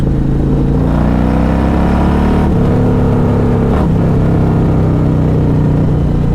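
A Harley-Davidson Road Glide with carbon fiber wheels rumbles steadily while being ridden, a loud, continuous low engine drone with a slight shift in pitch partway through, no talking.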